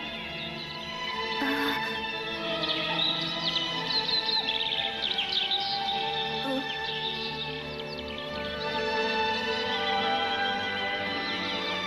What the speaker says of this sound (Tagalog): Ang lakas ng huni ng mga ibon.